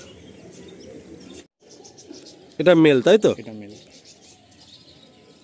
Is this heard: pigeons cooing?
yes